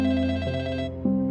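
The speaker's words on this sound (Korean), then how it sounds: "멀리서 전화벨 소리가 들렸다." A telephone rings with a clear, sustained electronic tone that warbles briefly and pauses for a moment before resuming. It is heard alone, with no voices.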